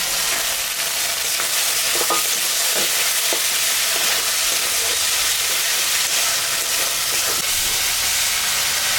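Tomatoes and green chilies frying in a spice masala in a pan, with a steady loud sizzle and hiss throughout and a few faint stirring scrapes, no voices.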